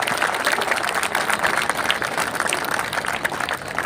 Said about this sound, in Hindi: एक बार सब मिलकर खिलाड़ियों के लिए जोरदार तालियां बजा दीजिए।